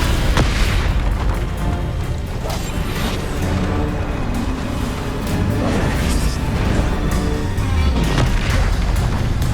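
Descendo is cast in Hogwarts Legacy amid combat, giving heavy booming impacts and crashing bursts in a loud, continuous battle din, with sharp hits recurring throughout and brief voice sounds mixed in.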